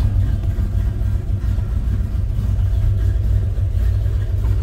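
A 1964 Mercury Comet Caliente's engine runs steadily at idle after a cold start, with a loud, even low rumble close by and no one speaking.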